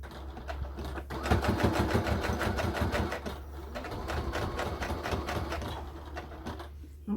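A sewing machine stitches a neck warmer scarf with a steady, rapid close-up rhythm that runs nearly the whole time, pausing briefly once before resuming at an even pace.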